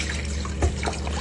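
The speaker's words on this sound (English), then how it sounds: "clean it all together under running water" Steady running water pours and splashes from a tap over cow earlobe being rinsed clean in a kitchen, a continuous close trickle with no talk.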